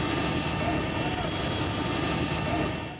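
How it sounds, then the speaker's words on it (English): An evacuation plane at Beirut airport drones steadily as evacuees board and depart, a loud, sustained engine roar that stays even before easing slightly at the end, with no one speaking. "What you're hearing is the sound of a plane as evacuees from many nations board and leave Beirut en masse."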